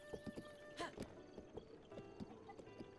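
Horse in the Zelda: Breath of the Wild video game, a short neigh and whinny rising over repeated clip-clop hoofbeats at a steady trot, fairly close, with faint game ambience.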